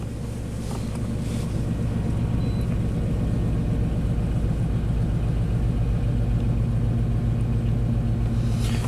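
A 1991 Chevy K1500 pickup's engine runs at a steady, loud idle with a low, even drone throughout and no voices.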